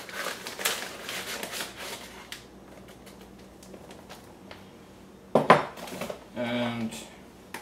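Flour scooped and measured with cups in a home kitchen, dry scraping and light clinks of measuring cups against a bowl, closing with a louder rattling clatter of utensils.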